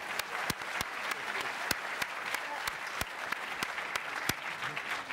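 Sustained audience applause at a BFI panel discussion, a dense steady roar of many hands with a few sharp louder claps standing out, fairly close and continuous without talk.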